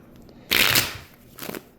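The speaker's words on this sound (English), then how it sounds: "All right, so let's get into shuffling and see what's up." Tarot cards being shuffled by hand, a loud riffling burst followed by a shorter, softer second burst, close up with no talking.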